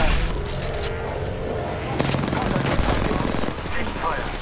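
Gunfire crackles through a match of the Apex Legends video game, rapid automatic bursts and sharp shots layered over a dense, loud battle din while a voice speaks over it.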